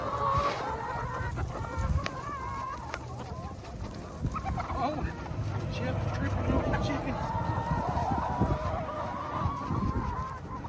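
A noisy flock of fowl clucks and honks together, with a dense chatter of calls running throughout at close range.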